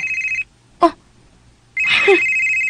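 A telephone bell rings in two loud bursts separated by a short pause, with a brief knock-like sound in between and no talk.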